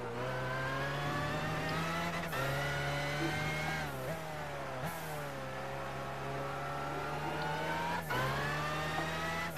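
A 1997 BMW McLaren F1 GTR race car in Gran Turismo 5 revs hard through its gears, the engine note climbing repeatedly and dropping sharply at each shift, loud and continuous with no voice over it.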